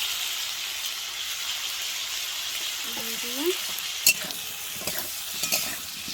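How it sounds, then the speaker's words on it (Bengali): Food frying in a pan with salt and turmeric, a steady moderate sizzle with a few sharp stirring scrapes and clinks in the second half; faint voice-like sounds briefly surface midway. "এখন লাল লাল করে ভেজে নেব"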